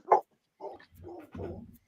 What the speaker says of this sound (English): your dog's losing it